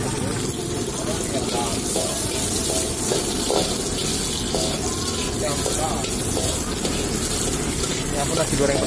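Nasi goreng with petai sizzles and hisses in a pan at an Indonesian night street-food stall, a dense continuous frying roar with faint clatter and people talking underneath.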